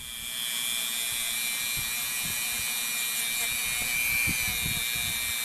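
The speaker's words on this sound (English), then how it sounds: "wire brush the most of it and then come back and do the fine stuff with the Dremel" A Dremel rotary tool fitted with a small wire wheel whines steadily at high speed while brushing a metal part for a pneumatic bandsaw blade guide fixture, with faint scratchy contact bursts near and alone.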